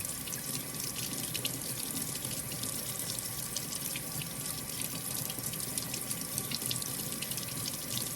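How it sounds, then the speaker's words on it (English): Water runs steadily from a tap while an etched glass piece is rinsed under it, a close, constant splashing hiss with no talk. "So you rinse it off, completely rinse it off."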